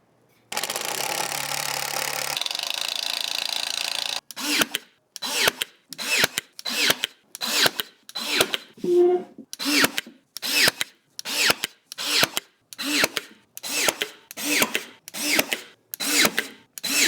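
Power drill driving screws through a shelf into a wall stud: one long steady whir, then a run of about fifteen short regular bursts, close and loud, with no talk.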